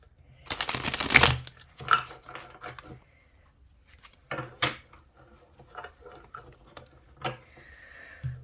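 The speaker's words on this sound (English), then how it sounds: "Let's shuffle it a few times" Tarot cards shuffled by hand in a few separate bursts of soft papery riffling and slapping, close and fairly quiet, with pauses between the bursts and no talk.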